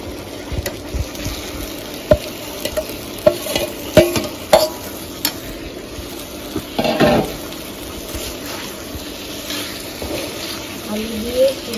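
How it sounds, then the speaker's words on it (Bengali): Potatoes fry in a pan and are stirred, with repeated scraping and clinking of a utensil over a steady sizzle, close and fairly loud. "আলু দিয়ে সুন্দর করে নাড়ানো করে"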